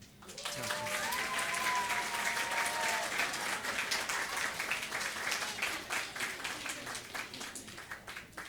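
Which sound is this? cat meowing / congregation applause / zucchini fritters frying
congregation applause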